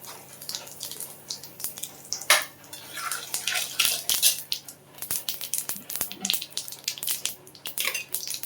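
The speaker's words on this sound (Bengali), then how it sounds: "আর একটু জিরে ফোড়ন দিয়ে দিলাম।" Cumin seeds hit hot oil in a pan while a Bengali chicken and potato curry is made, giving a faint, scattered crackle with intermittent metallic clinks of utensils against cookware.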